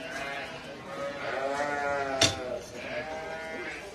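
Lambs bleating inside a roundhouse during late lambing season: overlapping, wavering bleats fill the clip at close range, with a brief sharp knock in the middle and no clear talk.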